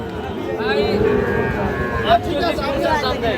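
Cattle at a livestock market, including a patterned bull of the Sahiwal breed, low against a busy backdrop of crowd chatter and talking voices, with a harmonic moo-like call rising briefly mid-clip.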